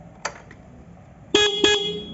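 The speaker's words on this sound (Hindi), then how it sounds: "मैं इसके चाबी स्विच ऑन करके और हॉर्न बजाता हूँ।" A vehicle horn sounds once briefly and faintly, then gives two louder, closer honks in quick succession after the ignition key is switched on.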